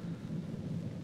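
A thunderstorm in a 1970 French horror film trailer, a steady low rumble of thunder with the hiss of rain, heard alone.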